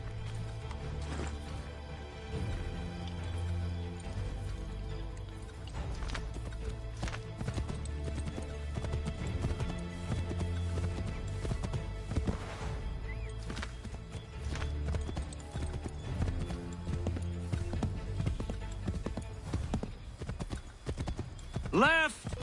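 Hooves of a galloping horse in a video game chase, a fast rhythmic clip-clop that pounds on steadily under urgent dialogue and occasional whinnies, with crashes near the end.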